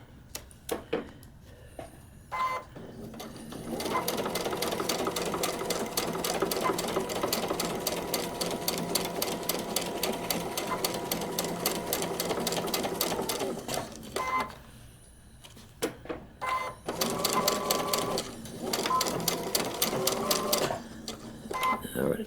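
A sewing machine stitches a paper-pieced quilt block in two rapid, rhythmic bursts separated by a short pause, with someone talking quietly between the runs.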